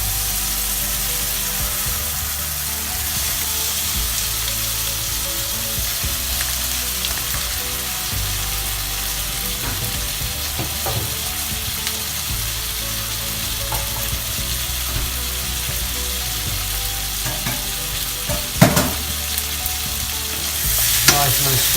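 Sausage bits stir-fry with tandoori paste in a hot pan, a loud steady sizzle with scraping stirs and a couple of sharper knocks toward the end, close up and without speech.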